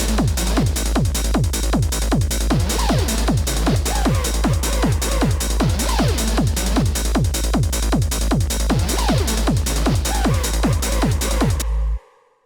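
A driving techno loop with a steady thumping kick, a deep bassline and crisp hi-hats ticking on every beat, loud and continuous before stopping abruptly.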